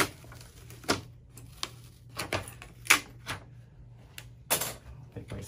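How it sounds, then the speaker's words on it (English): A utility knife slices architectural vinyl wrap film along a groove, giving a string of short, dry scratchy clicks and scrapes at an irregular pace, close up but quiet, with a faint low hum underneath and no talking. "I'm gonna cut just right up to the edge. Cut where that groove is at."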